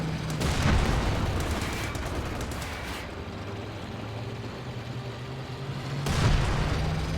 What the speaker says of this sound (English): And does fire a nice smoke round there.